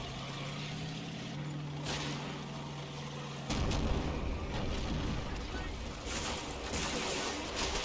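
Mortar fire in the Combat Mission war game lands as muffled, distant booms and rumbling bursts over a low engine-like hum. The sound stays fairly quiet throughout.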